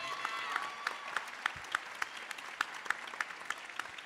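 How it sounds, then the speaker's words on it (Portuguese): Audience applause at an international symposium, a moderate, fairly distant wash of many hands clapping with sharper individual claps popping out irregularly. "Salva de palmas, gente."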